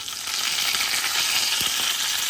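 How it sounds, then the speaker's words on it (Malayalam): Steady hissing sizzle of mustard seeds, curry leaves and dried red chillies frying in hot oil for chutney tempering, loud and close, with a few faint crackles and pops throughout. "കടുക് പൊട്ടിയതിന് ശേഷം കറിവേപ്പിലയും വറ്റൽമുളകും ചേർത്ത് കൊടുക്കുന്നുണ്ട്"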